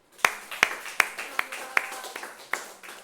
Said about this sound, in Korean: 위대하신 하나님께 감사의 박수.